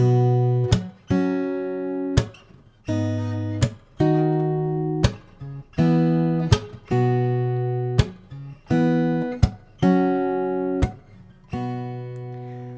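An acoustic guitar strums chords in a steady rhythm, each chord ringing out and then cut by sharp percussive backbeat chops, cycling through the progression of a song.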